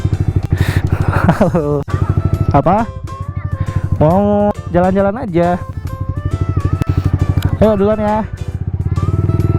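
Yamaha R15 V3 motorcycle engine while riding, a loud close buzzing drone that repeatedly revs up and drops between throttle blips, with a person talking over it.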